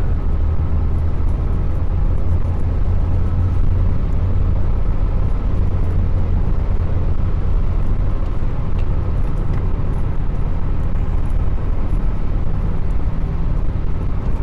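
Steady traffic roar from cars passing on a highway in Muscat, a continuous low rumble heard from inside a moving vehicle, with no distinct individual pass-bys.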